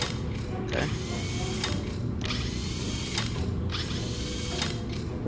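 A multi-tool drill in the Star Wars: Tales from the Galaxy's Edge video game gives a loud, continuous mechanical grinding whir, with sharp rhythmic ratcheting bursts repeating about every second throughout.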